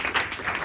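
A crowd claps for a speaker at a discussion on feminist public policy, a continuous moderately loud patter of hands with small swells, no talk over it.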